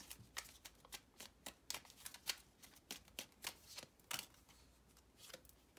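Tarot cards shuffled close up in a rapid series of crisp riffling bursts and taps, with no voices.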